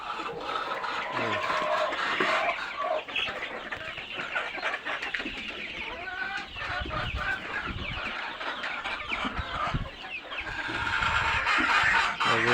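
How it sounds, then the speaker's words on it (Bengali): A crowd of layer parent hens clucks busily and overlapping while jostling over banana peels, close and steady, with scattered squawks and wing flutters. "কলার ছচা খাওয়ার জন্য সামনের প্যারেন্টস মুরগিরা দেখেন কেমন ভিড় করছে"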